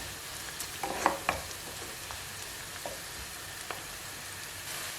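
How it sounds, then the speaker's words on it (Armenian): Onion fries gently in oil in a pan for pasus tolma, a quiet steady sizzle with a few soft clicks and stirring taps near the start. "այսպես թողնելու ենք սոխը մի փոքր տապակվի"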